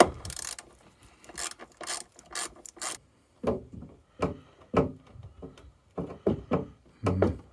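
A ratchet works loose a 10mm bolt on a 1994 Jaguar XJS V12 facelift, first with quick bursts of clicking, then slower separate rasping strokes with short pauses between them, close up in a quiet garage.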